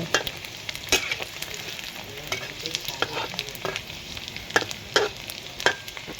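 Fish frying in hot oil during home cooking for a Thai meal with pounded papaya salad, a steady close sizzle with repeated sharp crackles and pops throughout, no talking.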